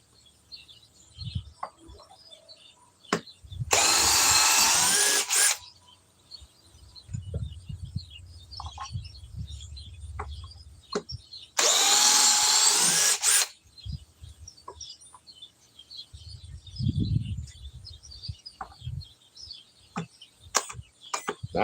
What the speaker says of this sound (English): Let's see if another drill can remove it.